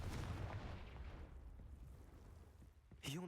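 In the video game Hogwarts Legacy, a Confringo fire spell lands with a loud, booming explosive burst that decays into a rumbling tail, followed by a brief sharp sound at the end.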